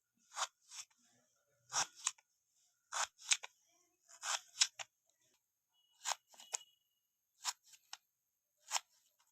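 Knife slicing potatoes for bakery-style french fries, a series of crisp separate cuts in small clusters against near silence.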